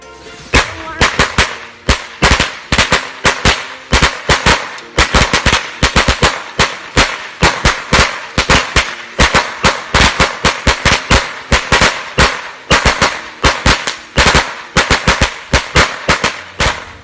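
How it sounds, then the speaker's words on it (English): A long string of 100 factory-made firecrackers bursts in rapid, loud, uneven bangs, a continuous crackling barrage that runs unbroken for about seventeen seconds with no voices. "Another long big bunch of firecrackers. It has 100 shots."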